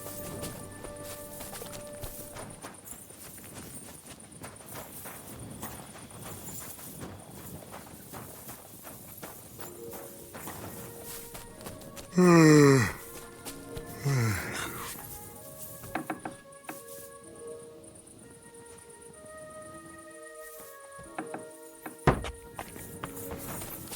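Horse hooves in Kingdom Come: Deliverance II clopping at a steady walking pace, moderately close, amid game ambience with a brief loud sweeping effect midway and scattered mechanical clicks.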